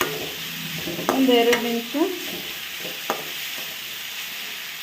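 Ingredients sauté in hot oil with a soft continuous sizzle and occasional stirring clicks, while a voice speaks briefly over it early on.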